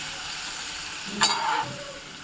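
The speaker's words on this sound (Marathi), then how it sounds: "टाकूया हा बारीक चिरलेला कांदा कांदा मीडियम ते हाय फ्लेमवरती चांगला लाल होईपर्यंत फ्राय करून घ्यायचा आहे" Finely chopped onion frying over a medium-high flame: a steady, close hiss of sizzling, briefly broken by a quick scrape of a spatula across the pan.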